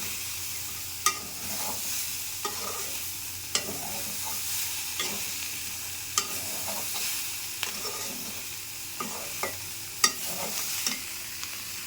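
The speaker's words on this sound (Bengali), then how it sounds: "আর অল্প একটু সময় ভাজতে হবে।" Mixed vegetables with soybean chunks and fried peanuts sizzle steadily in a pan, with a spatula scraping and stirring at regular intervals, close and continuous.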